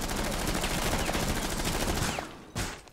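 Rapid automatic gunfire rattles in Rainbow Six Siege, a dense continuous burst of shots that cuts off, followed by one more sharp shot after a brief gap.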